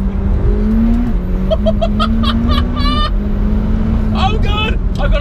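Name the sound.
McLaren 720S supercar engine accelerating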